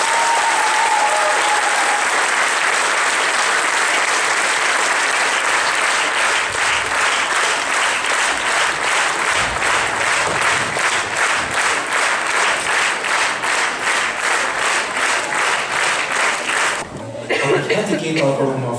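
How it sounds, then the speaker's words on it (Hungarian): Loud, sustained applause from an audience after a folk dance introduction, with dense clapping that swells into a steady, rhythmic beat before breaking off near the end amid a few voices. "Most a nagy tapsot!"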